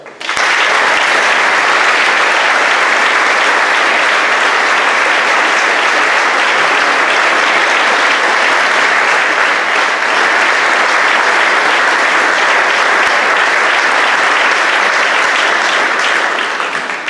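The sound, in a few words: applause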